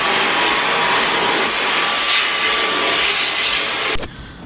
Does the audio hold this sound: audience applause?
no